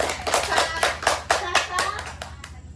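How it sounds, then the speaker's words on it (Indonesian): Classroom children clapping together in a series of loud, rhythmic bursts of hand claps, close by, with young voices mixed in. "Kasih tepuk tangan dulu untuk itu."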